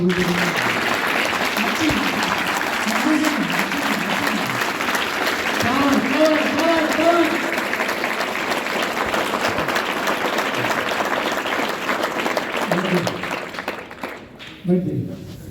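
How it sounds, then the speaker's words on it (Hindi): A congregation at a Hindi-language Christian worship gathering claps loudly and continuously for about fifteen seconds while voices carry over the clapping. The applause thins out near the end. "अच्छे हैं तो जोर से ताली बजाते हुए"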